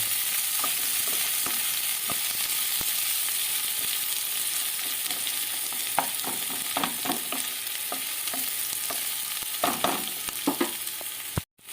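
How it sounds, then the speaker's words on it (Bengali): Onions stir-fry in a hot pan for a Bengali Tangra fish curry, a steady sizzle broken by scraping spatula strokes that grow busier toward the end. "রাখা পেঁয়াজগুলো দিয়ে ভালো করে একটু নাড়ি চালিয়ে নেব"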